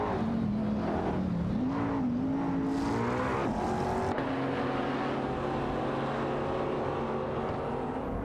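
Simulated race cars from an AI-driven racing game, a Lamborghini Murcielago SV and a Porsche 911-997 Turbo, give off a steady engine drone whose pitch rises and shifts with gear changes, holding loud and continuous throughout.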